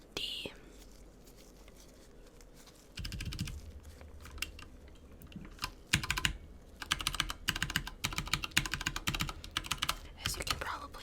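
Computer keyboard keys tapped in a key-by-key check at a repair bench, close-up clicks and clacks coming in quick clusters that grow denser and louder, with soft whispered speech in between.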